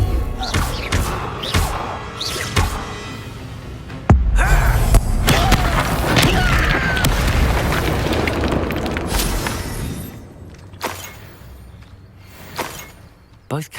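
An Incendio fire spell in Hogwarts Legacy erupts with a sudden loud boom, followed by several seconds of roaring, crackling blast and scattered thuds of combat, with voices speaking before and around it.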